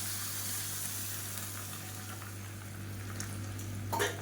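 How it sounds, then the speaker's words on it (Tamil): Vegetables sauté in a hot pan, giving off a steady, quiet sizzle and a constant hiss that carries through on its own. "இப்போ காய்கறி எல்லாமே லேசாக வதங்கிடுச்சு"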